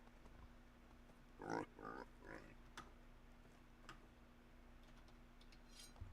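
Pigs oinking in the medieval farming game Medieval Dynasty, a few short grunts in quick succession near the middle against quiet ambient game sound, with faint ticking clicks.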